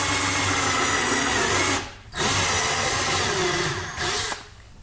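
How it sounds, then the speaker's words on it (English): A handheld power drill boring out homemade spud gun ammo, a steady whirring motor note that briefly stops twice and starts again, close up with no one speaking. "I just realized you could drill this out instead of burning it out."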